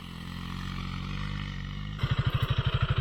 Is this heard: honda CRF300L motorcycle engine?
yes